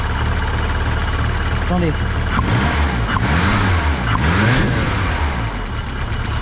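A Volkswagen Golf 2 carburettor engine idles, then revs up and falls back in a few rising and falling sweeps, loud and close, under someone talking.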